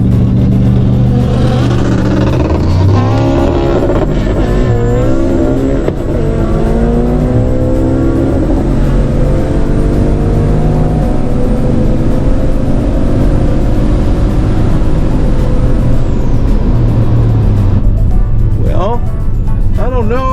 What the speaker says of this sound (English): We're gonna try to rev it out a little bit further.